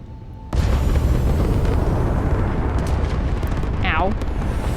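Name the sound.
space combat gunfire and explosions in the video game Starfield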